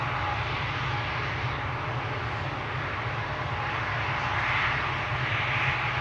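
An airliner climbs out after takeoff at Schiphol Airport, a broad, steady engine roar heard from a distance that stays loud and even throughout, with no talk.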